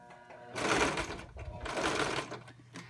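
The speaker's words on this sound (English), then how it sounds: "I'm going to go to the machine and sew it down right along the edge" A sewing machine stitches along the edge of a jingle dress in two sustained whirring runs with a short pause between them, close and steady, with no voices.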